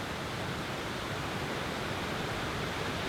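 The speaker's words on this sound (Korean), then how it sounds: "폭포를 가까이서 보기 위해 걸어가 보니 폭우가 쏟아지는 것 같다" Close, loud waterfall in a rocky canyon gorge, a dense steady roar of falling water like a heavy downpour, constant and broadband with no pauses and no voices.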